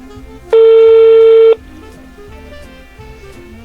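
A loud, steady telephone dialing tone about a second long on a phone during a prank call, followed by faint quieter beeps and line noise.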